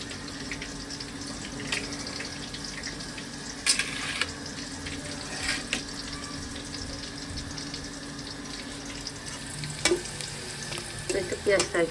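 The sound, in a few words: onion and spices frying in oil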